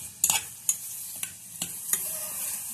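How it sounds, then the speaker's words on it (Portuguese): Meat fries in butter in a pan with a steady low sizzle, broken by several sharp utensil scrapes and taps against the pan, no talking. "Pronto, ela vai fritar agora."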